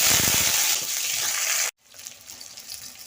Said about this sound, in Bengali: তেল গরম হয়ে গেছে কেটে রাখা আলুগুলো আমি কষে